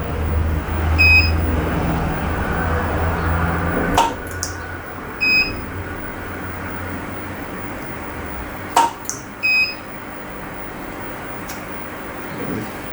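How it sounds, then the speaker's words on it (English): A welder's off-grid power system, with its grid connection offline, gives out short, high, evenly pitched beeps in small clusters at intervals over a steady background hum, with a few sharp knocks in between. "Ignore the beeping, that's just the grid saying it's offline."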